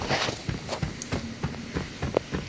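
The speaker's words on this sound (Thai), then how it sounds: "อันนี้เสียงเสียงเท้าเรานะครับ" The player character's footsteps in Arena Breakout tread in a quick, steady rhythm of soft thuds, fairly close and clear, with no talking.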